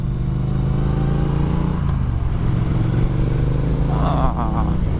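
A 2017 Triumph Street Twin 900 motorcycle engine pulls and accelerates, a loud, steady, close rumble that runs throughout.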